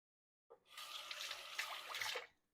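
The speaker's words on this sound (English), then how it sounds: "I'm going to wet my hands again." A tap runs briefly while hands are wet during sourdough making, a soft close stream starting suddenly and stopping after about two seconds.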